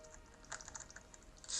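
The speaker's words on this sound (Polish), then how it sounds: "Wiem, że gwałcę tutaj jeden z klawiszy na klawiaturze" A computer keyboard clatters while someone plays a video game, with a quick burst of close, light key taps, one key struck repeatedly, ending in a louder clack.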